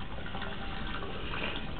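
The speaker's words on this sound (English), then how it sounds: "I'm gonna shut the water off" Tap water runs in a steady, loud, continuous gush into a terracotta-lined drain or sink, close by and unbroken, with no talking.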